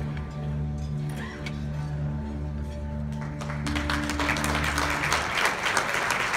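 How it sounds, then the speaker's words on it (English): An audience at a gala bursts into loud, sustained applause that swells and fills the room after a sustained musical tone fades. "Let's keep the applause going"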